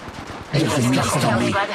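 Gunfire in the Apex Legends Mobile video game, a sudden dense burst of rapid shots starting partway in and continuing loudly to the end, with a voice talking over it.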